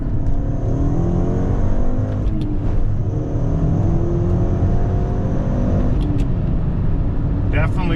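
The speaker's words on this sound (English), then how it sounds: "Let's do a quick little second gear pull here." Mk6 VW GTI, stage 2 tuned with a GFB DV+ diverter valve, pulling hard in second gear with traction control off: a steady, loud engine drone rising in pitch from inside the car, with a brief whoosh near the end.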